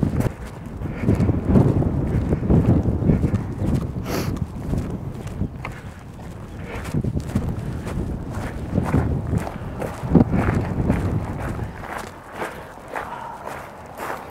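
Cold wind buffets the microphone outdoors on an outing in Denmark, a steady low rumble running through the whole stretch, with footsteps or clopping sounds on top.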